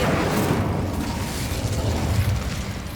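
The Incendio fire spell cast in Hogwarts Legacy gives a loud, continuous roaring whoosh of flame with crackling bursts, close and steady throughout.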